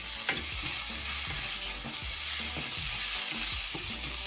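Onion sautéing in a pan with oil, a bright steady sizzle with repeated rhythmic scrapes and taps of the spatula close by.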